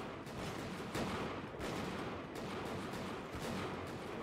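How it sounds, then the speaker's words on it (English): Musket volleys crackle in a dense, steady rolling roar from many soldiers firing in a Bannerlord battle, sounding fairly distant and low in level with no clear gaps between shots. "Keep firing, soldiers, I repeat, keep firing!"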